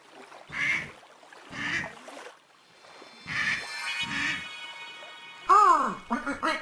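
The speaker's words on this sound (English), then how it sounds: "Duck." A duck quacks in several short nasal bursts spaced apart, close and fairly loud, followed by a longer honking call near the end.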